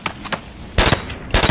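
Gunfire effect for a toy army men stop-motion scene: a few quick faint pops, then two loud close bursts of rapid shots a half-second apart.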